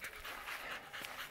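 An old dog pants rapidly on a hiking trail, with quick rhythmic breathy puffs close by and fairly quiet, with no talk over them.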